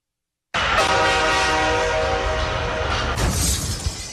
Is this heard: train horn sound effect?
yes